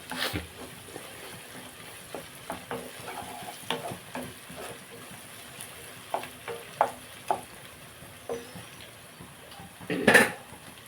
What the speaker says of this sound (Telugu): ఈ మటన్ అంతా ఇందులో వేసేసుకున్నాం